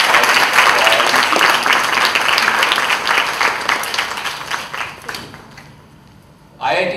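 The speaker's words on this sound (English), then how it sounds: "let's have a huge round of applause" A large audience applauds at a fashion design student seminar, a dense, loud wash of clapping that gradually thins and fades near the end before a brief voice cuts in.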